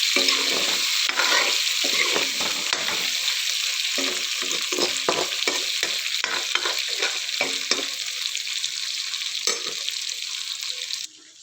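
Potatoes fry with browned broiler chicken in a pan, a loud close sizzle that runs throughout, broken by repeated scraping strokes of stirring, with no talk.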